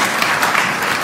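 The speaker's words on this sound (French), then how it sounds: "On peut les applaudir d'ailleurs au passage" Applause from a church congregation for the team who built the nativity crèche, a steady dense wash of clapping with no pause, fairly close and filling the space.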